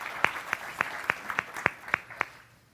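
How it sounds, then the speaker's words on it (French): A small audience claps to welcome a tourism guest at an event, about nine distinct, evenly spaced claps heard close and clear, fading out at the end. "Oui, on peut l'applaudir pour l'aider à..."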